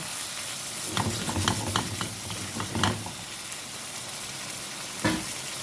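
Chicken liver frying in a pan with green peppers, stirred with scattered scraping clicks over a steady, fairly quiet sizzle.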